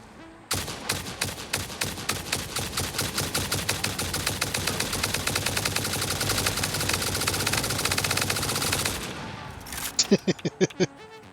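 Rapid automatic gunfire with turbo ammo shreds a hostile creature in Satisfactory, a dense unbroken burst of loud shots lasting several seconds, then a few separate heavier shots at the end.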